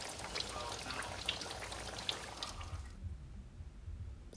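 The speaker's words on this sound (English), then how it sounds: "my grease is really crackling back there" Salmon croquette patties fry in hot grease, a faint steady crackle and sizzle with scattered pops that cuts off after about three seconds.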